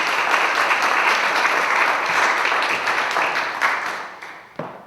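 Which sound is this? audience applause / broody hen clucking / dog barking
audience applause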